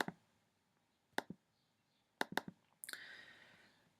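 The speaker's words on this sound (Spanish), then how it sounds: "Por lo tanto, doble clic al botón." A computer mouse clicks on an on-screen button, with sharp isolated clicks including a quick pair, near and crisp against a quiet room, followed by a brief burst of softer background noise.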